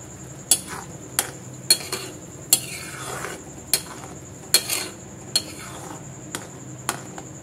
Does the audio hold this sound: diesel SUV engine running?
no